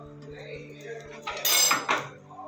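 A lid goes onto a cooking pot of kadai paneer on the stove, giving a couple of sharp metallic clanks close by, with a voice speaking around them.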